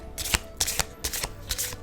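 A deck of tarot cards is shuffled in four quick, crisp riffling bursts, close and moderately loud, with no talking.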